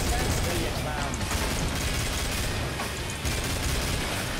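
Dense, continuous gunfire from Killing Floor as players hold off a horde, with rapid overlapping shots and blasts filling the whole stretch at a loud, unbroken level.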